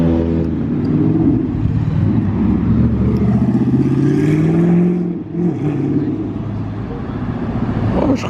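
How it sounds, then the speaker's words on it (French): A Spyker sports car with a manual gearbox roars past at close range on a Monaco street, its engine loud and sustained for several seconds before the sound eases as it moves off. "je crois que j'avais jamais entendu une Spiker faire autant de bruit"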